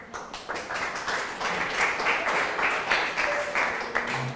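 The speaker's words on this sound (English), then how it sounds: "Round of applause for these nice people." An audience claps after a talk on the future of food, a dense round of applause building within the first second and holding steady and fairly close until the end.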